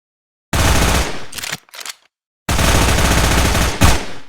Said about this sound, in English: Try to get a couple of rounds onto the stationary target dummy in front of you.